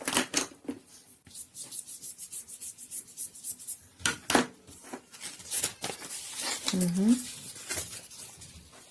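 Excess graphite is rubbed off a drawing, producing close, rapid rhythmic scrubbing strokes on paper in bursts, alongside quiet talking.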